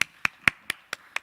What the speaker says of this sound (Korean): 환영의 박수로 맞아주시겠습니다